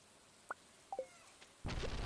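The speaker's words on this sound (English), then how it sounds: "Holy crap, that lightning was close." Thunder and rain from the Stardew Valley video game: a few brief crackling strikes, then a sudden loud, steady wash of rain that fills the last half second.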